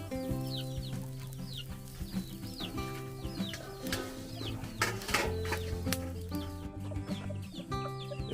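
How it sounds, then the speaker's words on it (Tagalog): Several native chickens cluck and chatter close by, with scattered calls overlapping one another and occasional wing flaps in a busy farmyard. "Ito yung mga alaga nating native na manok"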